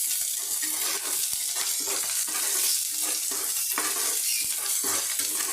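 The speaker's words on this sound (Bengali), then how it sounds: "তেলটা গরম হয়ে গিয়েছে এর মধ্যে পেঁয়াজ আর লঙ্কা দিলাম" Onion and green chilli frying in hot oil for a fried palta leaf dish, a steady bright sizzle with repeated stirring scrapes pulsing through it, close and continuous with no talking.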